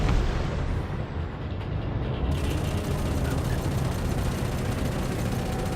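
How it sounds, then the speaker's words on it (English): Combat explosions in the space game Elite Dangerous, with Anaconda ships fighting, form a dense, continuous roar of booms and rumble. The sound stays loud and steady throughout, with no voices over it. "Look at those explosions."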